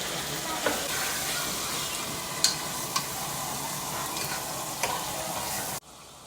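Small pieces of sliced meat sizzle in a hot pan with garlic, a steady close frying hiss with a few sharp pops, cutting off abruptly near the end.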